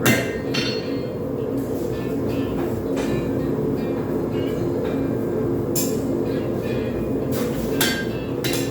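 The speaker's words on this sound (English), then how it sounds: "Putting in the bevels, so I'm striking like I'm pushing, right?" Hand hammer blows ring on a hot railroad spike as knife bevels are forged, a steady series of sharp metallic strikes on an anvil over a continuous low rumble, close and fairly loud.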